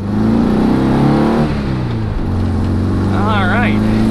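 A 1967 VW Bus engine pulls away in rush-hour traffic, a steady close rumble that rises as it accelerates, with a brief shift midway and faint chirping near the end.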